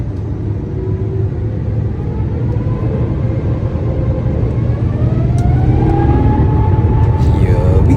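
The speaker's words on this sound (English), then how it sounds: "We entered the runway and listened to the engines powering up." Singapore Airlines jet engines spool up on the runway for takeoff, heard from inside the cabin as a loud steady low roar that swells toward the end, with a rising whine layered over the rumble.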